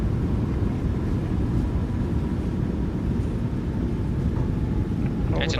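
Boeing 737-800 thrust reversers roaring during landing rollout in Microsoft Flight Simulator 2020; a steady, dense low rumble holds evenly throughout with no letup.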